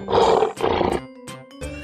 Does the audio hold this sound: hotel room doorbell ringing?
no